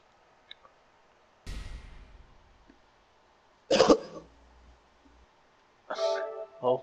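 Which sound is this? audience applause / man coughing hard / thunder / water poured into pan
man coughing hard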